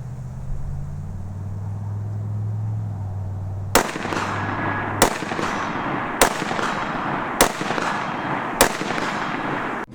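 Five sharp, loud bullet cracks at roughly even intervals ring out from bull-barrel AR-15 rifles at an outdoor shooting range, each ending in a brief decaying tail, after a few seconds of low rumbling background.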